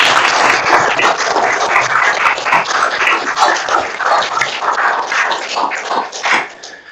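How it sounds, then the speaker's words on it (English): A round of applause rings out at a town council meeting in Glastonbury, dense steady clapping from the room that holds for the whole stretch and fades at the end. "A round of applause for Gerard."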